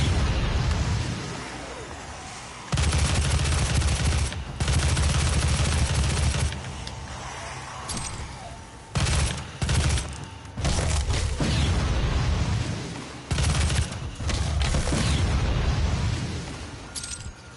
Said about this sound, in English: I like that little explosion sound it does whenever I fucking get a kill on him